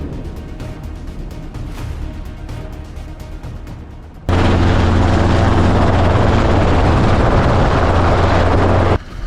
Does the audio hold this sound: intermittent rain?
no